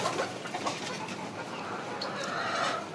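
Close, steady clucking from layer hens kept in a small-room farm, a dense mix of soft calls and brief squawks running without pause and no voices.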